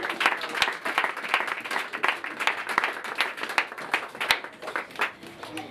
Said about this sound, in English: Let's give him a clap of welcome.